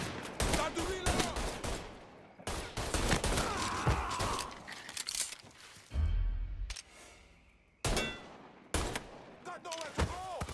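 Gunshots ring out in a Mafia 3 shootout, in several loud bursts with short gaps between them, mixed with dense game sound and shouted voices.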